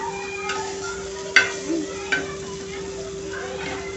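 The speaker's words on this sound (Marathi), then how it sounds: "आता आपण हा शेवटचा वडा देखील मस्तपैकी असा पलटून घेऊया।" Bottle gourd vadas frying in a pan make a steady low sizzle, punctuated by a few sharp metallic clinks and scrapes as they are turned, close and moderately loud.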